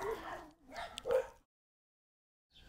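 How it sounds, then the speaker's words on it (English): A few sharp dog barks and yips close by indoors, two quick bursts followed by silence and a faint final bark. "Oops, sorry about my dogs."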